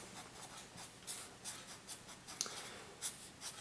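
A pen or marker writes out a math equation for partial fraction decomposition, faint quick scratchy strokes in short irregular bursts, quiet and close with no talking.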